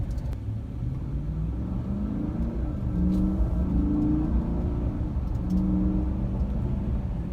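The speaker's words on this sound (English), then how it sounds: "you can hear some of the exhaust note, engine note through the cabin" A 2017 GMC Sierra 4WD pickup's engine rumbles steadily and rises in a couple of revving swells, heard from inside the cab with a droning exhaust note.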